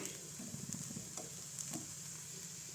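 Egg bhurji sizzles steadily in a pan while a spatula stirs and scrapes it in a few quick strokes, close and continuous with no voices.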